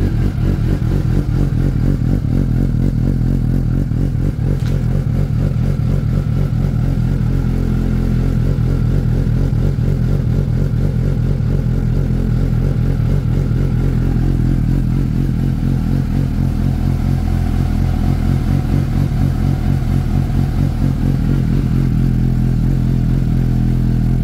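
A Suzuki GSX-S750 motorcycle fitted with a Yoshimura R11 exhaust idles steadily on a residential street, a loud, continuous throbbing burble with a mechanical clatter running throughout and no revving.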